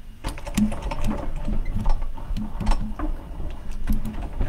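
A Crossover 2 die-cutting machine runs a die and metal plates through with a continuous mechanical grinding and knocking rumble, close and steady throughout.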